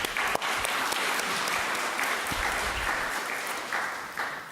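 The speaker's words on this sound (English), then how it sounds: "Just a round of applause for all of you." Audience applause at a public health grand rounds lecture in Philadelphia, a steady wash of clapping from a seated crowd in a hall, moderately distant and continuous.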